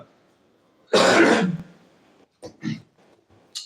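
A person with a cold lets out one loud, harsh cough or throat-clearing burst lasting about half a second, then a few softer throat sounds, close to the microphone in an otherwise quiet room.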